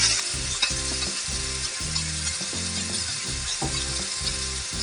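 Chicken breast fillet fries in a pan with sauce and chopped garlic, a loud, dense sizzle with rhythmic repeated scraping strokes of a utensil against the pan throughout.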